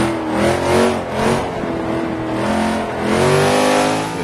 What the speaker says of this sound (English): bit more volume on the engine